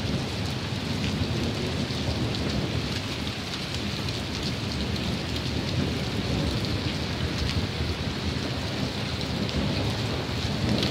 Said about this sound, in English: It's thundering the whole time.